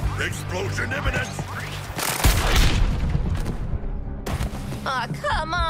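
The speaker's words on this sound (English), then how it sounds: "Explosion imminent!" Explosion mixed with rapid gunfire from a battle in the video game Suicide Squad: Kill the Justice League, a loud dense burst of blasts and shots layered with music and game sound effects throughout.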